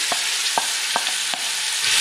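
Onions sizzling loudly in a hot pan, a bright continuous hiss with four regular tapping stir strokes, close and without talk.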